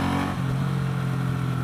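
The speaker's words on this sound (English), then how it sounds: "Exhaust sound, not bad. Very typical Japanese V-twin." A 2017 Suzuki Boulevard M109 BOSS V-twin motorcycle exhaust rumbles steadily up close during a downshift, a deep continuous throb with a slight shift in pitch partway through.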